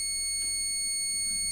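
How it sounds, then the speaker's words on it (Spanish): A multimeter's continuity beep while probing a drill battery charger's circuit board, a steady, unbroken high tone holding for the whole moment. "Lo dejamos fijo y el pitido es constante."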